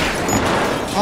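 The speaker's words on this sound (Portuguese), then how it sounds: "Nossa, eles estão atirando de fora." Gunfire from outside during a gas station robbery in a realistic video game comes as a loud, dense, rapid burst of shots filling the whole brief moment.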